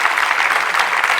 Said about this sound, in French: Je pense qu'on peut applaudir le soin.